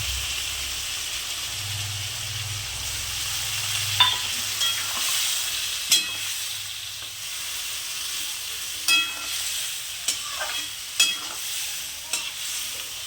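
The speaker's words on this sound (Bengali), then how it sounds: "এবার মশলাটা যেটা রেডি করে রেখেছিলাম সেটা আমি দিয়ে দিলাম" Spice paste fried with potatoes in a pan for a cabbage and green pea curry, a steady close sizzle with intermittent stirring clacks and scrapes throughout.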